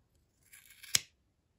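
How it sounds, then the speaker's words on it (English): Big scissors snip through crochet tassel yarn ends in a quick rustle followed by one crisp, sharp blade click, close and isolated against quiet. "using the big scissors"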